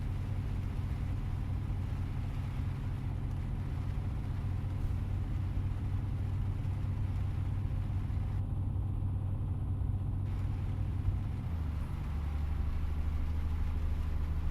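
A truck engine in Euro Truck Simulator 2 runs with a steady low rumble, its pitch dropping slightly near the end as the revs ease, with no voices.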